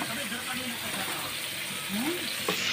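Cumin seeds sizzling in hot oil while hilsa curry is cooked, a steady close hiss of frying running throughout, with people talking over it.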